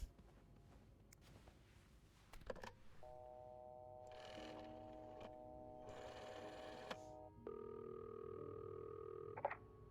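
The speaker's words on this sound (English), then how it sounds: "Let's try and call Beth." Telephone dialling in the video game This Bed We Made: a series of steady electronic dial and ringback tones in several separate bursts, mixed with faint clicks and handling noises, at a quiet level with no talking.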